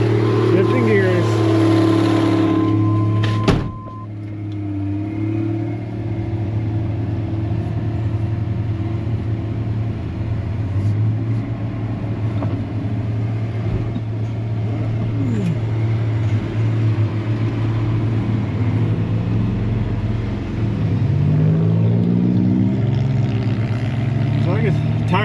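A Gleaner G combine found in a barn runs steadily with a loud, droning engine rumble and mechanical whine that persist while gears are shifted, including a brief clunk and dip near the start; voices are faintly present.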